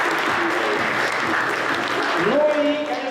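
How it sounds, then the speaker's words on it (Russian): Loud, dense applause from a crowd at a youth volunteer forum, with a voice starting to speak over it near the end. "Громкие аплодисменты."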